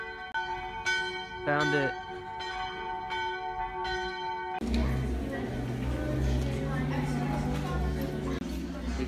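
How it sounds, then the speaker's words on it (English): Church bells ring in a clear, spaced series of strikes with long ringing overtones, then the scene shifts to a noisier interior with a low hum as a voice speaks briefly. "We're going to the bells."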